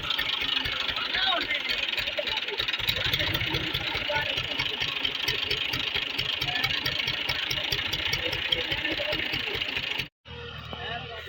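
Tractor engine chugging as the tractor drives away, a rapid, regular mid-pitched thumping that runs steadily for about ten seconds before cutting off abruptly, with people talking over it.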